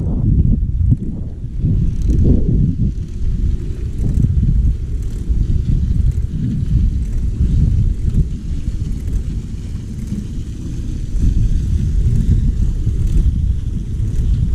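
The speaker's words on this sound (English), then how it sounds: "Just a short ride here on the Trek 720 Multitrack." A short ride on a Trek 720 Multitrack hybrid bicycle, heard as steady low rumble of tyres on pavement mixed with heavy wind buffeting on the microphone, continuous and close.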